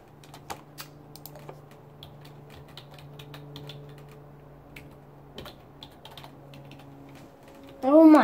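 Keys tapped on a computer keyboard, a sparse run of light, close clicks and taps over a low hum, followed at the end by a short burst of voice.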